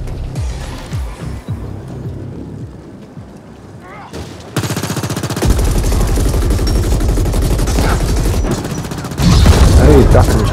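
Rapid bursts of gunfire and explosions from the video game Battlefield 2042 crackle in dense volleys that swell louder toward the end, with players chatting over the fighting.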